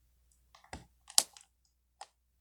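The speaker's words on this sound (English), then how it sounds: "Got my scissors, so you just cut it off" A few short, crisp scissor snips cutting a plastic tag close by, separated by brief pauses in an otherwise quiet space.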